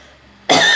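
A single loud, sharp cough bursts out after a moment of near silence, close to the microphone and harsh, holding for a short moment.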